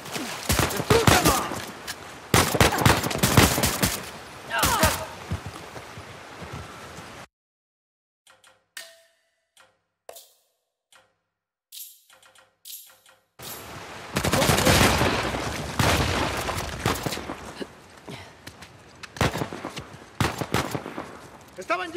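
Gunfire in the video game Uncharted: The Lost Legacy comes in dense bursts of rapid shots and fusillades, loud at first, then a quiet gap with scattered sounds, then heavy firing again, mixed with game voices.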